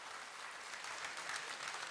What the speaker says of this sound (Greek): Και ένα ζεστό χειροκρότημα για όλα τα στελέχη της νομαρχιακής μας